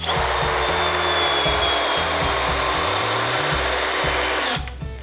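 A cordless hammer drill on low speed drives a lag fastener, whirring steadily with a stuttering, pulsing low grind as the bit bites and strains, then cuts off abruptly near the end.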